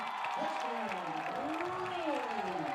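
A high school football crowd at Little Rock Christian versus Pulaski Academy roars continuously after a touchdown, a dense wash of cheering and whoops heard from a distance, with a voice talking over it.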